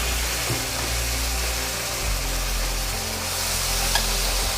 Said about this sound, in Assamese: এতিয়া দি উঠি মই ভালদৰে ভাজি ল'ম